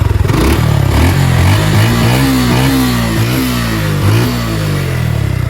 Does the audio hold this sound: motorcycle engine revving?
yes